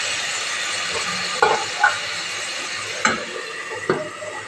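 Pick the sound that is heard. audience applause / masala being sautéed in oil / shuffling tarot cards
masala being sautéed in oil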